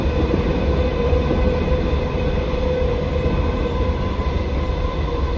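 An electric train, class 507, departing Liverpool Lime Street station hums and rumbles close by, steady and loud with a faint whine, as it rolls along; no voices are heard.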